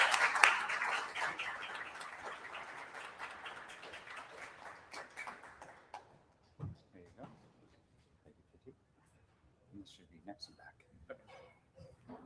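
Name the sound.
audience applause for the next conference speakers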